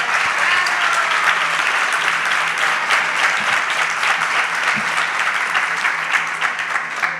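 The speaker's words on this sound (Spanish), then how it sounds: "Yo quiero, primero que todo, pedir un aplauso para la organización del mismo" An audience at a cultural literary festival in Santo Domingo applauds steadily, a dense, sustained clapping that fills the room without pause.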